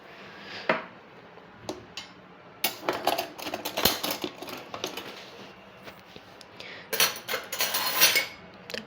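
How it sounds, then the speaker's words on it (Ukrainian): Dishes and cutlery clatter and clink nearby, irregular bursts of plates knocking together and metal utensils rattling as items are handled and sorted. "Розбираємо трошечки посуду."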